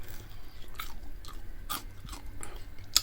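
Homemade fresh fries from a Cookeo Extra Crisp are bitten and chewed up close, giving several sharp crisp crunches spaced irregularly over a few seconds, with quiet pauses between bites and no talking.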